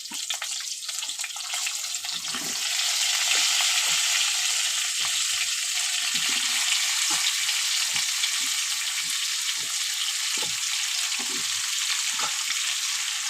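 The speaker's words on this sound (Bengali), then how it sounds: "দিয়ে দেব কাঁচা লঙ্কা এরপরে দেবো কেটে রেখা কুমড়ো" Cut pumpkin and green chili frying in a pan for a pumpkin fish curry, a steady bright sizzle with scattered soft stirring knocks, no talking.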